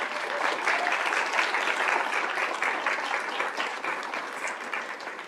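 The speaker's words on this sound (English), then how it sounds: "I would like to make sure we can give a big round of applause to that team." A board meeting audience gives steady, even applause for the arts education team, the clapping dense and fairly distant, running unbroken from start to finish with no speech.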